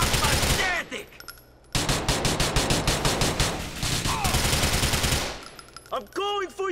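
Machine gun fire in Grand Theft Auto IV: long rapid automatic bursts of gunshots with short pauses between them, loud and close, with brief voice fragments near the end.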